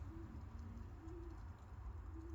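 Pigeons in individual loft boxes coo softly in repeated low, rolling calls against a steady hum of background noise.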